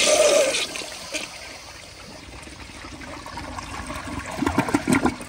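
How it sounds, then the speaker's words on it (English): A 1972 Kilgore Argus toilet flushes with its siphon jets working: a watery rush opens loud, thins to a steady trickling swirl, then surges again near the end, heard up close with no talk. "So here's another flush."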